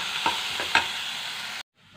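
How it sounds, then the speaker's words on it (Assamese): Onions frying in oil in a kadai give a steady close sizzle with a few sharp stirring scrapes, ending abruptly in near silence. "সাধাৰণতে এইখিনি ৰঙচুৱা হোৱালৈকে পিঁয়াজখিনি আমি ভাজি ল'ম"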